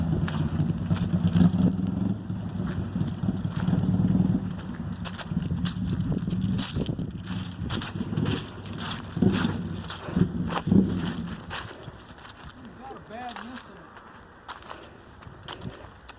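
A Yamaha XS 650 motorcycle engine idles with a bad misfire, a low uneven chugging rumble with irregular stumbles, running close and steady for most of the stretch before easing off somewhat near the end, with wind buffeting over it.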